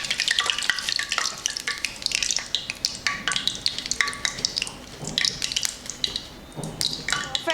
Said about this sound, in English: in goes our marinated paneer in the frying oil